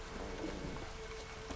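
Heavy rain falls in the video game The Witcher 3, a dense, steady hiss of downpour with a low rumble underneath, continuous and fairly quiet.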